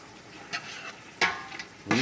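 Stir fry being mixed in a hot pan on high heat on an electric stove, with sesame oil and soy sauce; a few brief scraping, sizzling stirs come at intervals over a quiet background.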